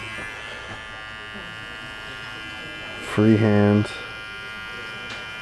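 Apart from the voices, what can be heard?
electric hair clipper trimming hair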